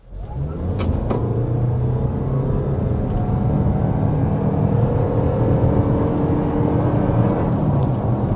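A 2026 Toyota RAV4 accelerates hard toward 60 mph, its engine and road noise a loud, steady rumbling whir that holds without a break and carries no voices.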